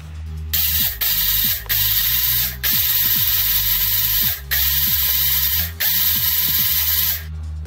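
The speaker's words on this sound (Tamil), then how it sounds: "இதை போயிட்டு மிக்சியில போட்டு அரைச்சிட்டு வந்துடலாம்." A mixer grinder blends eggless mayonnaise made with olive oil, running in several loud bursts with brief pauses between, its motor whirring and rattling with no talk over it.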